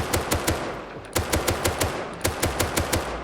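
A semi-automatic rifle fitted with an attachment fires in the game Rust. Three quick runs of about seven sharp, loud, evenly spaced shots ring out, with no talking.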